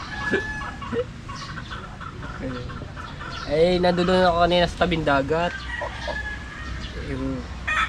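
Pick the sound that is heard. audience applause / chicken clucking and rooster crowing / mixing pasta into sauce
chicken clucking and rooster crowing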